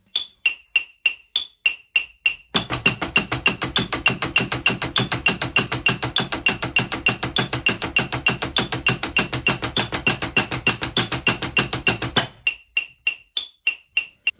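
A drum kit plays a hammer blast beat: sparse cymbal ticks, then a fast, dense run of unison kick, snare and cymbal hits for about ten seconds before dropping back to ticks, loud and close.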